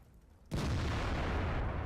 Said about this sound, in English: So, Dex fires one blind there.